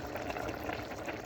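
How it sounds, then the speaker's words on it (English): A black rice mixture boils in a pot, a faint steady bubbling and simmering texture heard up close with no talking over it. "Now that my mixture started boiling, I'm going to add in my tablespoon of butter."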